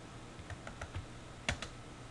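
Several sparse, faint keypresses on a computer keyboard, a few distinct clicks spread over about two seconds.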